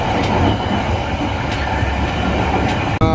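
A train rolls along the Siliwangi railway line, giving a loud, continuous rumble of wheels on track with faint rhythmic clacks, heard from close by and without speech.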